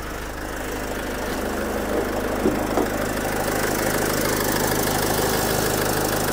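A 2-litre diesel engine in a 2007 Opel Vivaro van idles steadily with a knocking, mid-pitched drone, heard up close and continuous with no speech.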